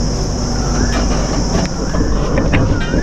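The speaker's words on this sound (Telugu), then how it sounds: "ట్రైన్ మొదలైంది." Train noise inside a Humsafar Express bound for Jammu as it begins pulling out, with a steady loud rumble and rattle throughout and faint wheel squeal and creaks on top.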